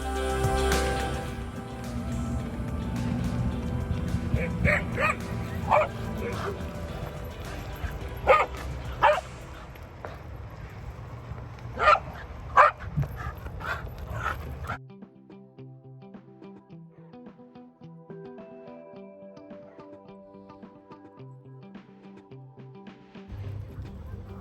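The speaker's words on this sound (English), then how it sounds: "this lawn has a lot of dogs." Dogs on a lawn planted above a garage bark and yip in sharp, irregular bursts, some close and loud, over a rolling background rumble that drops away halfway through, leaving quieter tonal sounds.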